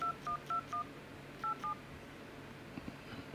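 A telephone being dialed: six clear touch-tone beeps in two quick bursts, close and distinct over a quiet background, followed by faint room noise.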